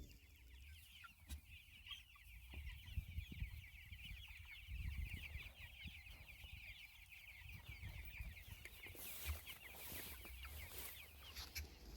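Chickens cluck softly and steadily inside a chicken tractor built from recycled materials, a quiet, continuous murmur of hens with occasional louder calls and faint outdoor rustling.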